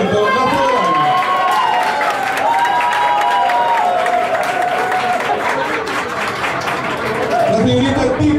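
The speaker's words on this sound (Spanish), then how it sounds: "por mediante sus aplausos, vamos a rescatar a otra pareja esta noche en el reality de Bailando de Fausto." A studio audience at a dance reality show applauds and cheers loudly and continuously while a host's voice carries over the crowd.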